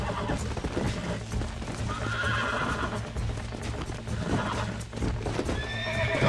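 A horse in the video game Red Dead Redemption whinnies and neighs repeatedly over steady clip-clopping hooves, with game ambience running throughout.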